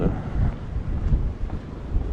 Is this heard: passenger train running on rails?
no